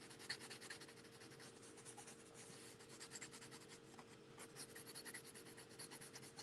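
Quiet, quick scratching of a colored pencil stroking back and forth across paper, a soft continuous rasp with small irregular bursts.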